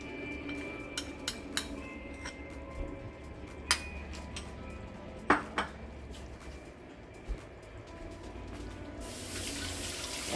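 Peanut butter is stirred into vegetables in a cooking pot, with scattered clinks and scrapes of a utensil against the pot over a quiet kitchen background and a burst of running water near the end.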